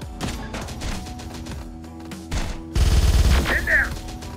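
Gunfire in the video game Terminator Dark Fate Defiance: dense, loud bursts of automatic weapons that build into a sustained fusillade with crashing impacts, heard up close with no talk over it.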